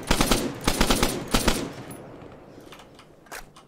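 Rapid rifle fire in the video game ARMA 3, using a weapon with a 20-round magazine: dense bursts of sharp shots for about a second and a half, then a few fainter, scattered reports.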